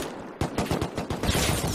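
Rapid bursts of AK rifle fire in the survival game Rust, a close, loud series of sharp shots in quick succession after a brief lull, no talk over them.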